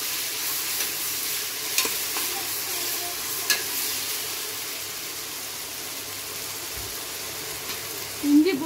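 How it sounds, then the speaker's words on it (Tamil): Onion with ginger and garlic paste sautés in a pan, a steady close sizzle with occasional light scrapes of stirring and a brief clatter near the end. "வெங்காயம் சோப்பானோடனே இஞ்சி பூண்டு உருதை போட்டுருங்க. போட்டு நல்லா வதக்கி விடுங்க."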